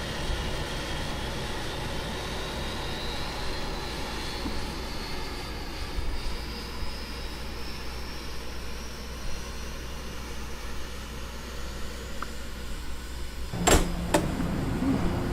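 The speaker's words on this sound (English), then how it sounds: "I think I just started the engine by accident." Eclipse 550 jet engine running in the X-Plane 11 flight simulator: a steady, loud engine roar with a faint turbine whine slowly rising in pitch, and a brief clatter near the end.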